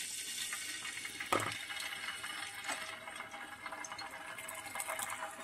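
Half a spoon of ginger garlic paste fries in a little oil on a tawa frying pan, giving a steady, close sizzle throughout with one brief clink partway through.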